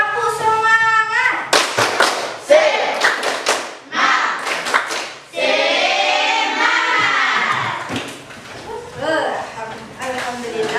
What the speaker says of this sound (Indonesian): Kita cobakan tepuk semangat. Tepuk semangat.